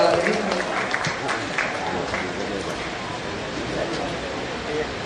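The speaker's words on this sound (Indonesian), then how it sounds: "Tepuk tangan untuk Eyang Titi Puspa yang sudah hadir di tengah kita pada malam ini." An audience at an evening event in Jakarta breaks into steady applause, with a busy wash of clapping and crowd murmur continuing throughout.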